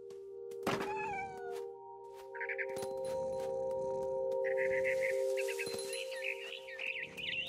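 Cat meows from the What Remains of Edith Finch video game, a few short cries over a steady tonal game ambience with chirps and clinks, moderately loud and close.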